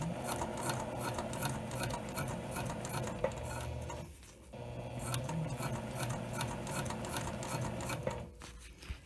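A sewing machine stitches fabric for a small moon-shaped pouch, running in a quiet, steady mechanical whir with a short pause midway and another near the end.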